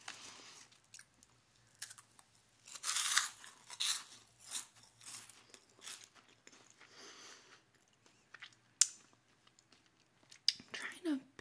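Cheesy poofs crunched and chewed close to the mic in a binaural eating roleplay, with several crisp bursts of biting and munching spread across the clip amid quiet mouth sounds.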